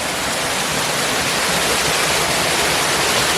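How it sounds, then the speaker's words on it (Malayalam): A waterfall roars in a dense, unbroken wash of rushing water, loud and close, with no voices over it. "കേട്ടാ വെള്ളച്ചാട്ടത്തില്"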